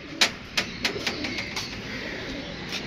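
A pigeon coos near a net in a rooftop loft, soft repeated calls with a few sharp taps at the start, then a low steady background.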